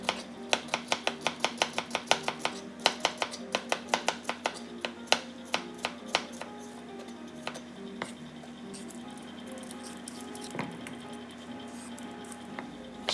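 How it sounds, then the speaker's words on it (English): A knife cuts bitter melon into thin slices on a board, a rapid run of crisp, close chopping taps that slows into scattered single strokes and then falls quiet. "Cut bitter melon into thin slices."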